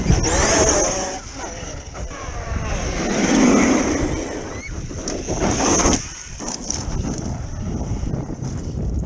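An Arrma Outcast 8s EXB remote-control car drives past with a high, whining electric motor that swells and fades, and wind noise buffets the microphone outdoors.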